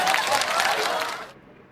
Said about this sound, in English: A round of applause to our strong tributes.